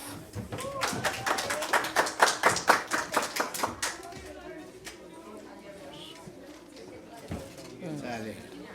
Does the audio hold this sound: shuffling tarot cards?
no